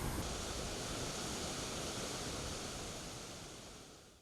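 Waterfalls at Mount Kumgang pour with a dense, steady rushing roar that fades gently toward the end, with no voices over it.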